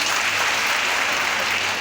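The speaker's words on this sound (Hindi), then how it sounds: "एक बार एसलीपीएस के लिए जबरदस्त तालियां" Brief burst of dense applause from a seminar audience, many hands clapping together in a steady, fairly loud wash that runs throughout.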